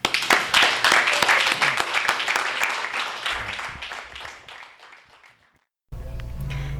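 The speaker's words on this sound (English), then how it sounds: "All right, so one last round of applause." Audience applause at a bookstore author reading, loud dense clapping that gradually thins and fades over several seconds, ending in silence before a different recording begins.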